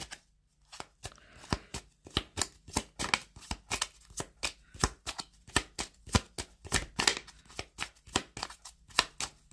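Tarot cards are shuffled and dealt out in a quick series of crisp, close riffling snaps and slaps, with an uneven rhythm of about two or three per second and no talk.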